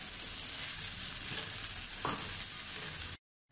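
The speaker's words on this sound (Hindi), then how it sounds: "अब हम एक मिनट भूनने के बाद इसमें चिकन ऐड करेंगे और अब इसको एक से दो मिनट हम भून लेंगे" Chicken keema filling fries in a pan with a continuous loud sizzle and faint stirring scrapes, then the sound cuts off abruptly near the end.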